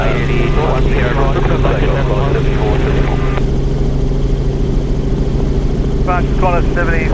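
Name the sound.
Qantas Boeing 747 airliner taking off and climbing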